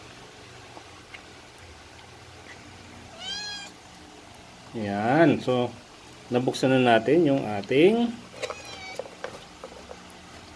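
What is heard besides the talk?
cat meowing, begging for treats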